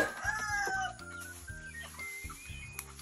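Several chickens and roosters, kept for morning sparring, cluck and call nearby, with a crow at the start and repeated short clucks after it.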